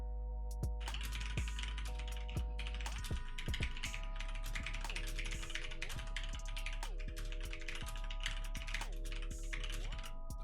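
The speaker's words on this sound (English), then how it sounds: "I'm gonna completely focus on just typing the words" Fast clicking keystrokes on a computer keyboard, a dense rapid patter under a loud, steady looping synth melody.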